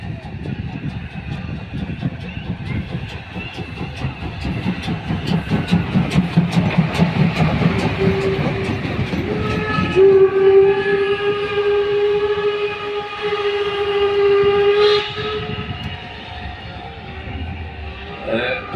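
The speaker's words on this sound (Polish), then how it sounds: "pierwszy uczestnik tegorocznej parady, czyli parowóz Energy 507 z Luksemburga" Luxembourg steam locomotive 5519 rumbles past with rhythmic chuffing at the Wolsztyn steam locomotive parade, then a long, loud whistle sounds and holds steady for several seconds as the train continues by.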